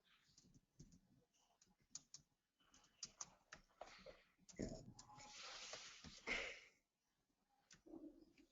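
Faint, uneven typing of a do-while loop on a computer keyboard, scattered key taps and clicks with a denser rustling stretch in the middle, then a brief pause before a few more keystrokes.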